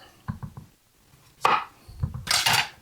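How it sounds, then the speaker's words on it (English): A knife chops through a zucchini on a cutting board with a few short, close thuds, including a louder crisp cut and scraping contact. "we're going to cut one end of the zucchini off"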